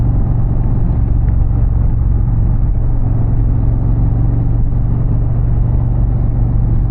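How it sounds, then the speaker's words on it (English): Indian Challenger Power Plus motorcycle on its stock exhaust, a steady deep low rumble cruising along at constant throttle, loud and close with no voices. "for stock exhaust, Indian really nailed the tone"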